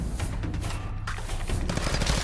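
A 10mm pistol fires in Fallout 4. Loud, booming shots run together into a continuous burst of gunfire with heavy low thumps.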